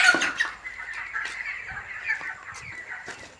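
Farm-raised chickens cluck repeatedly at close range, a busy run of short clucks and murmurs with occasional sharper calls and no talk.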